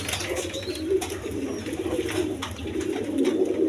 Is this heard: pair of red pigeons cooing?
yes